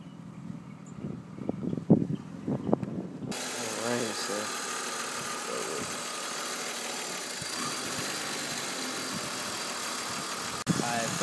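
A BMW E39 engine runs at a steady idle outdoors during a MAF sensor check, a continuous close mechanical hum after a few seconds of talking at the start.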